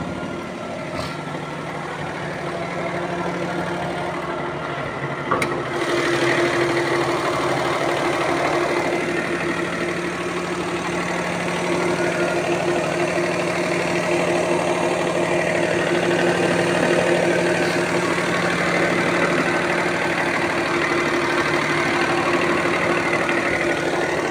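A Perodua Kancil fitted with a naturally aspirated Avy engine idles steadily throughout, a continuous close mechanical hum with a low drone and no voices over it.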